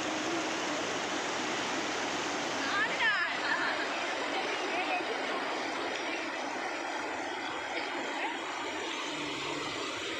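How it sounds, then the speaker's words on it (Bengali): Floodwater on the Mayurakshi river rushes past in a loud, broad, continuous roar that holds steady from start to finish. "কিভাবে জল নামছে, তো বিশাল ভয়ঙ্কর ব্যাপার।"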